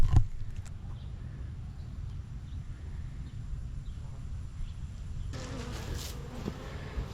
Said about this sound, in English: Are them some beautiful bees or what?